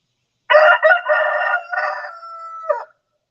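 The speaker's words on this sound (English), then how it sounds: "I don't even know what the hell he's crowing for." A rooster crows once, loud and close, a single drawn-out cock-a-doodle-doo lasting over two seconds with a sharp final note, set against silence.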